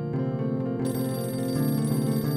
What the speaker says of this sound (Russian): Так, что звонит? Телефон, видимо.